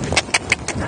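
A young horse trotting in a dressage arena, four quick evenly spaced hoof beats on soft footing, close and clear.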